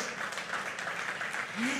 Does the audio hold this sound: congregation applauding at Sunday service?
yes